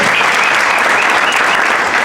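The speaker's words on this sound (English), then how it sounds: "So a round of applause to everybody for that." Audience applause at a boxing press conference, dense steady clapping from a crowd filling the room at full volume without a break.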